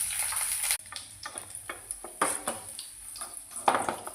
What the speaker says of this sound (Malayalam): നേരത്തെ മാറ്റി വെച്ച അണ്ടിപ്പരിപ്പും മുന്തിരിയും അതിലേക്ക് ഇടുകയാണ്.